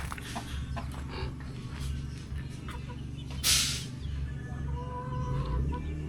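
Young farm chicks cluck and peep faintly and intermittently over a steady low rumbling hum, with no voices.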